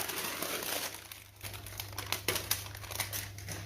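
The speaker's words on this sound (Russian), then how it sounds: "Снимаем бумагу" Parchment paper peeled away from a baked meringue roll in a kitchen, a continuous crinkling and rustling that lasts a few seconds, close and fairly soft, with no talking.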